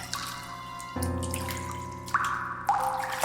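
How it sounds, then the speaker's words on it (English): Water splashes and runs beside an old village well at night, a close continuous pouring with a few sharper splashes breaking through, heard alone without any voices. "Water splashing."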